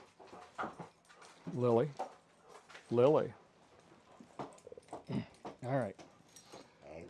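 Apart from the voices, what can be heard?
dog whimpering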